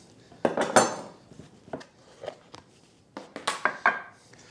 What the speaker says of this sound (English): All I have to do is scoop some scrambled egg into the container and add bacon.